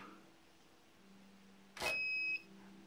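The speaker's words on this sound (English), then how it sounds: "you'll hear a beep if it was successful" A short electronic beep from a fingerprint keypad door lock, two steady tones rising briefly over faint background hum, clear and close.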